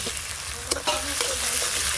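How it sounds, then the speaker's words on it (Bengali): Chopped onion dropped into hot oil, a dense close sizzle with a few sharp stirring scrapes and clicks over a constant frying hiss. "গরম তেলে পেঁয়াজ কুচি দিয়ে দেব"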